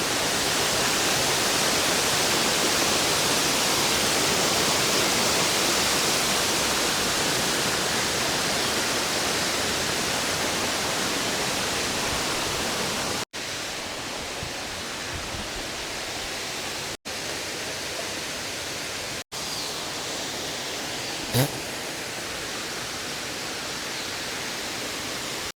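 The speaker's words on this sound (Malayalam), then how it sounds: "ഇതാണ് മരോട്ടിച്ചൂട് വെള്ളച്ചാട്ടം." Marottichuttu waterfall in Idukki pours in a continuous broadband rush, loud and steady, then drops slightly quieter after a brief cut, with a faint click partway through.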